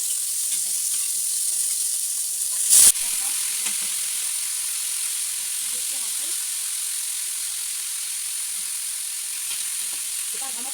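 Salt cod searing in hot peanut sauce in a pan: a continuous bright sizzling hiss with soft stirring scrapes and a brief sharp clink partway through.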